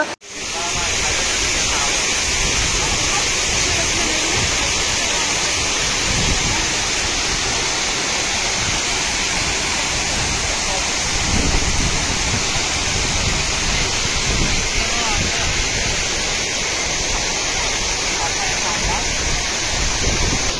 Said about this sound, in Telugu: చూసారు కదా అదిరిపోయే వాటర్ ఫాల్ ఎలా ఉంది